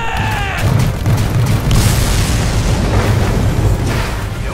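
Cannons in Attack on Titan fire at a titan, a loud barrage of booming blasts that roll into one continuous, dense rumble close at hand.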